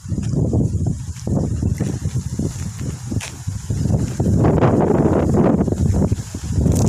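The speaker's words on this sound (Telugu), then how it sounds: "బాగా గాలి వస్తుంది" Strong wind buffets the microphone at a farm house lined with trees, a steady broadband rush with gusts that swell louder toward the end, heard alone without talk.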